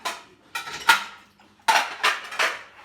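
Dishes, plates and glasses clatter as a dishwasher is emptied, with six sharp, close clinks and knocks in uneven bursts and short pauses between them.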